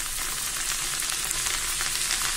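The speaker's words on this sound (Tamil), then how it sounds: "இதுதான் ஃப்ரை பண்ணி எடுக்கணும்." Moong dal frying in hot oil, a steady, dense sizzle that continues evenly and close throughout, with no voices.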